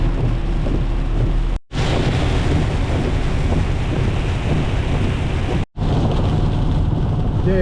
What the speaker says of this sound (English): we have a storm that's gone through, coming through right now